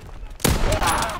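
A sniper rifle fires in Call of Duty WWII during an infantry match on the Pointe du Hoc map. A single loud, sharp crack is followed by a booming tail, with game noise before it.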